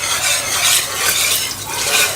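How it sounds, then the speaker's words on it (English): A whisk stirring a roux in a pan for a chicken pie, a continuous close scraping and swishing with a soft frying sizzle underneath. "Yeah, so Alia is using the whisk here because what she doesn't want is she doesn't want any lumps in there"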